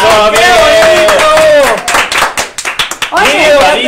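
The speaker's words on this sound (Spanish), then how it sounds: "¡Ay, un aplauso!" Brief hand clapping breaks out during a Day of the Dead livestream, with a short burst of claps mixed in under loud, excited voices talking over it.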